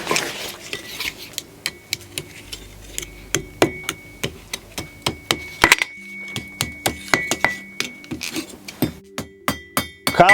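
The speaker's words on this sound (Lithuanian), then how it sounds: "Kalant plaktuku ant priekalo sulenkiamas strypelis" A hammer strikes an anvil again and again while a wire rod is bent into a hook, sharp metallic clinks in a steady, fast rhythm over about ten seconds, close and clear with no talk.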